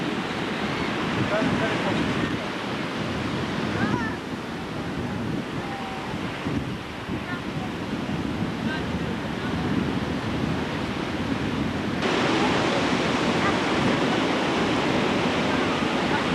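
Surf rolling onto the beach at Caesarea near the old aqueduct, a steady loud roar of breaking waves mixed with wind buffeting the microphone, continuous throughout.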